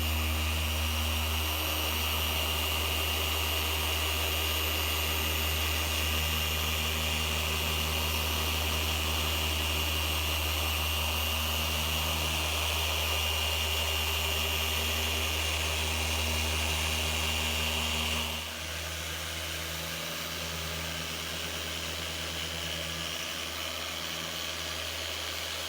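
A car polisher running on the paint of a classic Ferrari gives off a continuous close, droning whir with a steady tone, shifting slightly in load partway through, with no talking.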